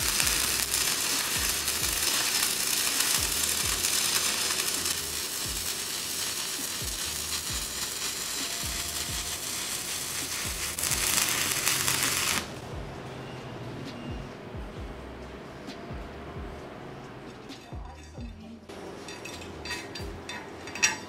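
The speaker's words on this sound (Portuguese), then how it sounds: "Aqui eu vou fazer o primeiro cordão de solda a 75 amperes." A coated stick electrode welds a first bead at 75 amps, making a loud, continuous crackling hiss for about twelve seconds before the arc stops and only faint background sounds remain.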